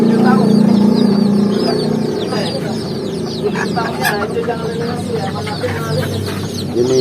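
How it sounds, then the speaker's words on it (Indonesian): Bantam chickens in a dedicated rearing pen cluck continuously, with overlapping calls and short squawks from several birds at close range. "Ini tempat pemeliharaan khusus ayam kate."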